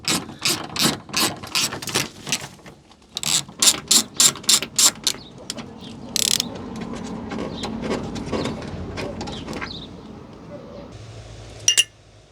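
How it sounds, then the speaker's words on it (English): Ratchet with a small extension bar undoing a headlight screw on a Nissan Micra K11, a quick run of loud clicking ratchet strokes followed by softer turning, close up, with someone talking over parts of it. "it's far less likely to strip if we use the ratchet"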